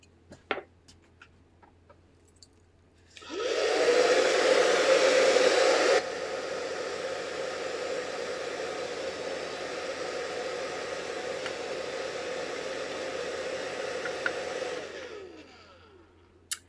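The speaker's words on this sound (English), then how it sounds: "I'm going to give it a little blow dry" A hair dryer blows on painted craft foam. It starts with a sharp click, roars loudly for a few seconds, drops to a steady lower setting, then winds down and stops; close by, with no talking.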